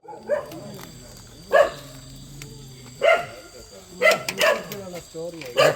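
A dog barks in short bursts, about five sharp barks spaced a second or so apart, fairly close, with quiet between them.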